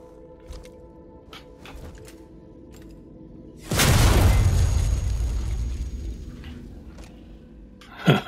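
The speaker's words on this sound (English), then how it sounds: "I'll throw the flashbang and then shoot him, then hide, see what happens." A flashbang grenade goes off in Alien: Isolation with a sudden loud boom that decays into a long rumbling roar, preceded by faint clicks and scattered ticking sounds.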